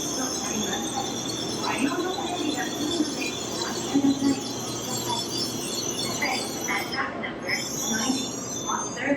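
A Shinkansen bullet train pulling into Tokyo station, a sustained rumble with high metallic wheel squeal running throughout, while people talk nearby on the platform.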